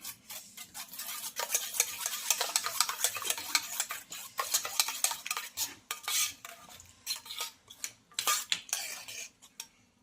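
Raw egg whisked with salt and red chilli powder in a bowl, a fast, steady clatter of a fork or spoon against the dish, close and fairly soft, with no voices.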